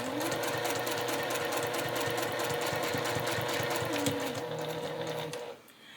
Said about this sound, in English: what she's telling us to do is to back stitch when we get to this mark